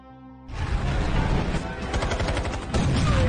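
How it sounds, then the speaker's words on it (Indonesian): A shootout in a Jason Statham action film, following a bomb blast, brings dense, relentless gunfire. Rapid automatic bursts blend into a loud, continuous roar of shots that swells near the end. "terjadilah baku tembak yang sangat epik"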